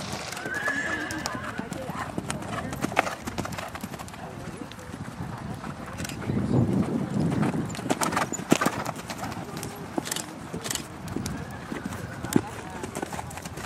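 Horse hooves clip-clop in a steady canter rhythm, close and continuous, with a horse neighing and whinnying partway through and people talking in the background.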